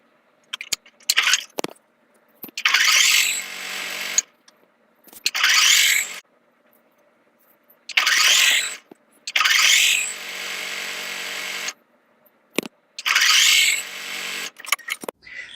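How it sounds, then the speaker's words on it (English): Bursts of a sewing machine stitching 2.5-inch jelly roll fabric strips together, several runs of steady mechanical whirring separated by pauses and small handling clicks, close and fairly loud with no talking. "I'm going to be sewing those together"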